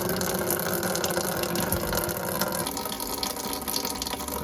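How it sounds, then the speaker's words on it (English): Coolant draining steadily from a C5 Corvette radiator, a continuous hissing, splashing flow of liquid with a faint mechanical hum underneath, even and unbroken throughout. "coolant will drain."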